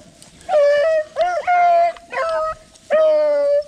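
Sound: beagle hounds baying while chasing a rabbit

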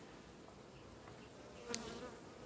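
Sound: honeybees buzzing on a brood frame

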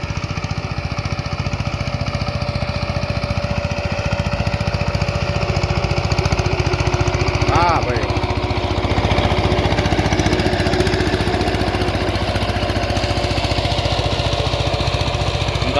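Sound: tractor engine running in field

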